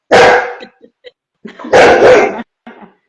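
A large dog barks in two loud, close bursts, each trailed by shorter yips, with brief quiet gaps between them.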